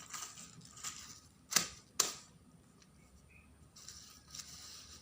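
A tracing wheel rolls over carbon paper while a hijab pattern is marked, giving soft raspy ticking with two sharp, close clicks near the middle and lighter scraping before and after.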